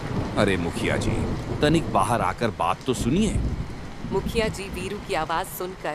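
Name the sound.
heavy rain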